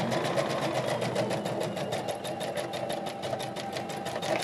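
A sewing machine stitches a petticoat in a steady, fast, rhythmic whir of needle strokes, close and continuous, with no talking.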